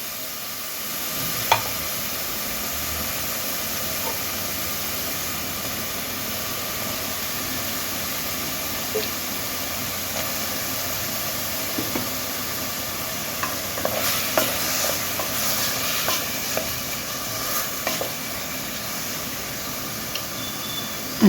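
Tomato paste curry with drumsticks fries in a pan, a steady low sizzle running throughout with occasional scrapes and clinks of a spoon stirring, close and continuous.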